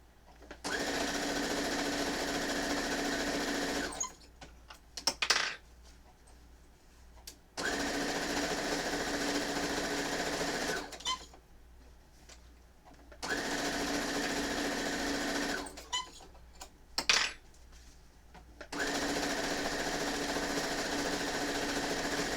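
A sewing machine stitches fabric for a dice bag in long steady runs, each several seconds, separated by quiet pauses with small handling clicks; close and loud, no speech.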